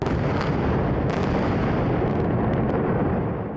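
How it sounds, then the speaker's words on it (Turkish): Heavy bombardment from an Israeli air strike on Gaza roars continuously, loud and dense, with repeated booming blasts that merge into a sustained thunderous rumble. "İsrail bölgeye peş peşe bomba yağdırdı."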